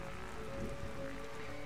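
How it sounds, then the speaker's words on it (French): Steady rain pours in The Darkside Detective video game, a soft, even patter with a faint low tone running underneath and no talking. "Pourquoi j'ai l'impression qu'on travaille que la nuit et toujours sous la pluie?"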